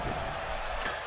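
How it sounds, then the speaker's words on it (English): Crowd noise in the WWE 2K16 wrestling video game as an arena audience roars for Stone Cold Steve Austin, a steady dense wash of cheering with a brief sharper swell near the end. "This crowd going crazy for Stone Cold Steve Austin"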